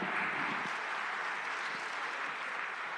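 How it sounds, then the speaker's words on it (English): An audience at an energy technology conference in Hyderabad gives a round of applause for people on stage, steady, fairly faint clapping from a crowd throughout. "One collective round of applause, please, everybody."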